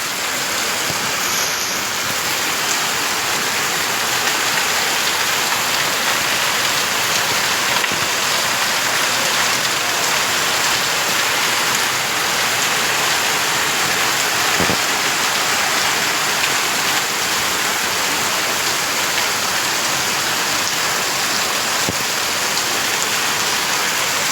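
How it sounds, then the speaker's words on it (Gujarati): Heavy rain pours down at night, a loud, dense and unbroken roar of falling water that keeps going without a break. "બહુ વરસાદ ચાલુ છે"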